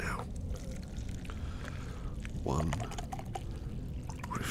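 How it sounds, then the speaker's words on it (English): Water poured from close range into a teacup, a short gurgling trickle partway through, with soft whispered talk before and around it. "I'll pour you a drink."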